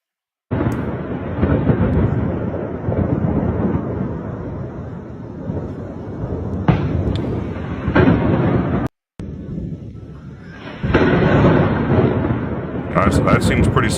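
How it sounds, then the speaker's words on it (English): Gunfire and heavy explosions in war news footage of a Russian invasion, deep rumbling booms rolling like thunder with sharper cracks, loud and sustained with a brief dropout midway. "gunfire and explosions"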